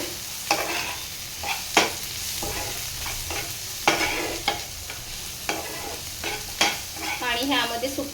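Dried bombil fish is stirred into a frying masala, with sharp spoon scrapes and knocks at irregular intervals over a soft, continuous sizzle.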